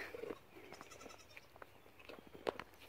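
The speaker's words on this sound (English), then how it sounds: "Distraction number two is our baby Nigerian dwarf goats, Piglet, and Winnie the Pooh" Baby Nigerian dwarf goats bleat in a muddy farmyard. Two short, high bleats, one near the start and one near the end, come through faintly over quiet outdoor background.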